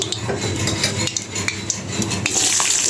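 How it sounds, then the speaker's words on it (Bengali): Flat beans (botboti) with potatoes fry in a pan in a home kitchen while a metal spatula scrapes and stirs. The clatter of irregular, close clinks and scrapes rides over a soft sizzle. "এখন আমি বটবটিটা ভাজবো"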